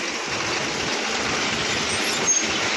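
A steady, loud roar of heavy truck engines passing close by on a road in light rain, continuous broadband rumble with no pauses.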